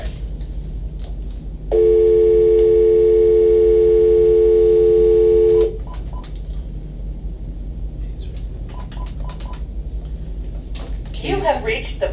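A telephone call placed to a number sounds one long steady ringback or call-progress tone lasting about four seconds, followed by a few faint, short clicks and beeps, with brief speech and rustling near the end.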